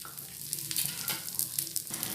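Onion dosa cooks in ghee on a hot pan, giving a soft, steady sizzle with quiet scraping and crackling pops scattered through it.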